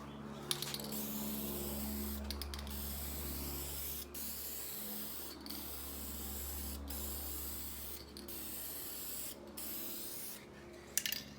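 An aerosol spray can lays light coats of paint on a Honda CRX, with long continuous hissing bursts broken by short pauses, close and alone over a low steady hum.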